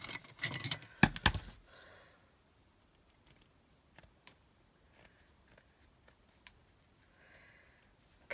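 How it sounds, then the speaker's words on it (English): Scissors cut a floral tablecloth patch, opening with a dense flurry of snips, then a slower run of sharp, isolated clicks spaced out over several seconds, close and quiet. "Cutting it off this floral patch here from a tablecloth."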